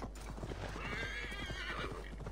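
A horse in Assassin's Creed Valhalla gallops with steady, close hoofbeats, and a drawn-out whinny rises over the hooves midway. No voices are heard.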